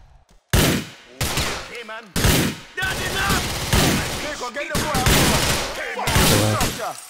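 Gunfire crashes out in the crime game GTA IV: a rapid string of loud, sharp shotgun blasts and cracks, densely packed with barely a gap after a brief quiet opening.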